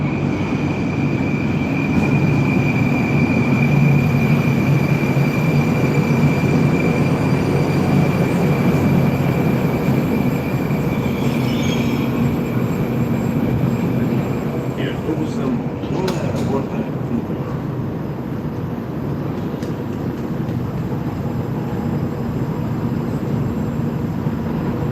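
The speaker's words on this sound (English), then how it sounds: "We're just in the Moscow metro right now." A Moscow metro subway train rumbles steadily with a loud, continuous low roar and rattling wheels, a faint high whine over it, and no clear pauses throughout.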